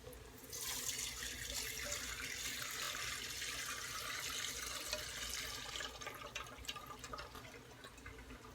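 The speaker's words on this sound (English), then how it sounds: "I'm going to strain this grease into another pot" Hot grease from frying smothered pork chops pours from a pan into another pot as a close, steady liquid rush that thins into trickles and drips toward the end.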